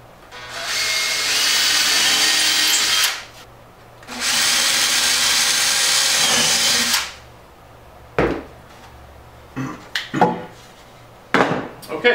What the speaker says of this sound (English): now I can go ahead and drill the holes through the rest of the way